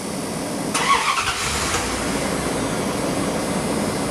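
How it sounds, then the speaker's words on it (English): A truck engine fitted with a vacuum gauge on the intake line cranks and catches, a short starter burst giving way to a steady running drone heard nearby with no talk. "We start the truck."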